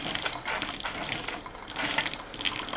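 Water gushes steadily from an RV faucet as antifreeze pushes it out of the lines during winterizing, a continuous splashing rush close by with no talk.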